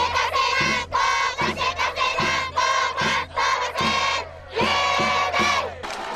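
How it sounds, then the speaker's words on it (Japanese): Whole-school cheering squad packing the first-base stands at a high school baseball game in Kagoshima, a massed crowd chanting and shouting in loud rhythmic bursts over a steady low drumbeat, continuous and near. "一塁側のスタンドを青く埋め尽くした南種の全校応援"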